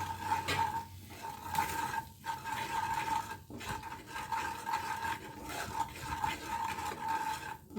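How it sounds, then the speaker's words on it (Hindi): Spoon stirring coriander and turmeric powder in a pan over a low flame, a soft, continuous scraping with faint repeated clinks against the metal, close up, with no talk. "इन सबको हम लो फ्लेम पर धीरे धीरे चलाएंगे।"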